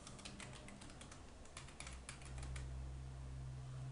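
Rapid clicks of a computer keyboard as a password is typed, a close, quick run of keystrokes over a low steady hum that grows slightly louder toward the end.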